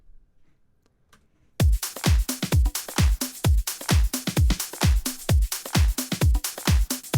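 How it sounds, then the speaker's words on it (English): After a moment of near silence, a punchy parallel-compressed drum groove starts: heavy kick and snare hits in a steady rhythm, loud and dense with pronounced attack. "And so all the drums together sound like this."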